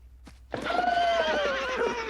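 A cartoon horse gives a loud, drawn-out whinny with a wavering pitch, following a brief sharp sound, and there is no talking over it.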